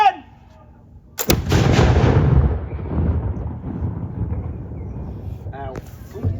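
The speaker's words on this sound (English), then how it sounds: "Firing wall gun!" A wall gun, a large musket loaded with 500 grains of powder, fires outdoors in a field with a single loud, sharp blast and a long rolling echo that fades slowly. A voice calls out just before the shot.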